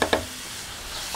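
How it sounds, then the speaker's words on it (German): Onions being added to browned ground beef in a Dutch oven for a one-pot pasta dish: a brief stir and clatter at the start, then a steady, moderate sizzle of frying. "wir müssen auch noch unsere Zwiebeln mit anbraten und die werden wir jetzt mit dazugeben"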